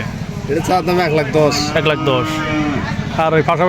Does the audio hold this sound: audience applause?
no